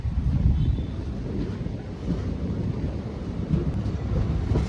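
A sleeper-class train rolls into the third platform at Eraniel station on newly laid track, sounding as a steady low rumble with wind buffeting the microphone throughout and no clear voices.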